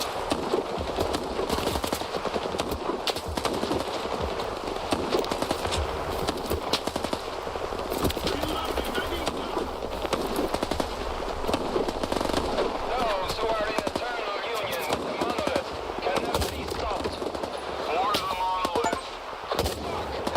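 Gunfire from a shooter set in S.T.A.L.K.E.R. 2 Heart of Chernobyl, with rapid cracking shots in clustered bursts sitting over a dense, continuous layer of game ambience and music throughout.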